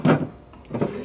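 Drawers of a 32-inch antique red four-drawer wooden console slide and bump shut, giving two short, close wooden thuds with a brief gap between them.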